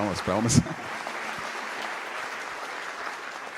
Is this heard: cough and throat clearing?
no